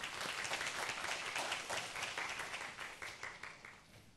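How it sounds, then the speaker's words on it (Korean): Brisk audience applause at a game developer conference as a magician and a model are welcomed onstage, thick and continuous and easing slightly toward the end. "박수 부탁드립니다"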